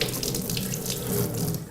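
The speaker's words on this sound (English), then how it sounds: "it's enough to clean the sensor under running water with a mild detergent" Steady running water from a tap pours over a cooking-oil quality sensor (Testo 270) being rinsed with mild detergent, a continuous close splashing hiss with no talk.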